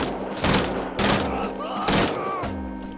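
Assault rifle fire in Wolfenstein: The Old Blood, heard as four loud, separate bursts of rapid shots, each followed by a short rumbling tail, over a steady low game hum.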